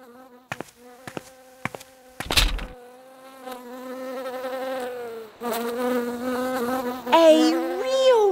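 A bee buzzes in a cartoon scene, coming in short separate bursts at first and then a longer, wavering drone that rises in pitch toward the end, with a few clicks along the way.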